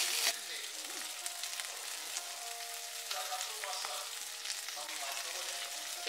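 Puthi fish frying in a pan, a steady bright sizzle and crackle that keeps going throughout, close and clear with a few faint clinks.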